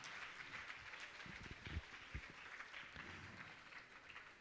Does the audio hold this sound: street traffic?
no